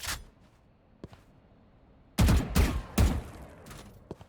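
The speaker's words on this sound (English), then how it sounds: "Shooting everywhere but the cam" Gunfire in the video game Valorant: a couple of faint isolated shots, then a loud rapid cluster of three or four sharp bursts, followed by one last quieter shot.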